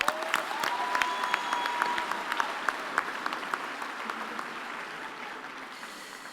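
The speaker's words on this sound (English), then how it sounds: "we should also give him a hand of applause" Applause from the audience at a university graduation ceremony, honouring the Dean of Law: steady, dense clapping throughout, moderately distant and fading slightly near the end.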